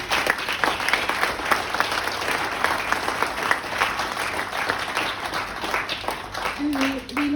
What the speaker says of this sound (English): a huge applause to our panelists and to you